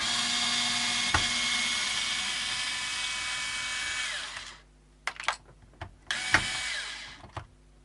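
Tremolo screws being backed out of a partscaster guitar with a power driver: a loud, steady whine for about four seconds, then silence broken by short clicks and two more brief driver bursts.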